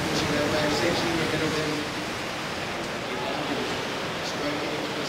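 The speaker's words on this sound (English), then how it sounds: "More waves on the way." Ocean surf rolling and breaking at a pro surf contest at J-Bay (Jeffreys Bay), a steady broad wash of wave noise with a faint commentator voice underneath.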